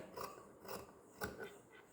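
Scissors snipping through fabric to cut a round chudidar neck piece, a series of crisp rasping cuts in a fairly steady rhythm, close and fairly quiet, with no talking.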